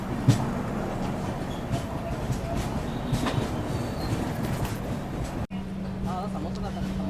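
The Rayalaseema Express rumbles along near Tirupati station in a continuous, close rolling clatter of wheels on track, with voices talking over it.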